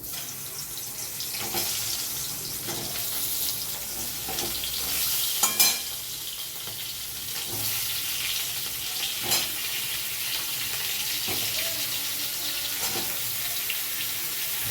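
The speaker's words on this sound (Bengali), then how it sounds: "এখন পটলগুলো সব ভেজে নেব।" Stuffed pointed gourds frying in hot oil with turmeric in a wok, a steady broadband sizzle throughout with occasional clinks and stirring knocks, close and moderately loud, no talking.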